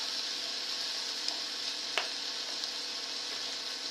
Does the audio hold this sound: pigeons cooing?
no